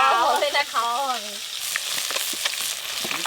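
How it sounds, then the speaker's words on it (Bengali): Small whole fish fry in a pan in a village kitchen, a close, bright sizzle that keeps going after a short stretch of singing or humming at the start. "ছোট মাছ তো সবাই আবার ভাজতে পারে না।"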